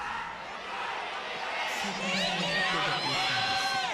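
A large esports crowd at the League of Legends LCK Spring finals between kt and SKT roars and cheers steadily, swelling louder midway, with voices and shouts blending into a continuous wash.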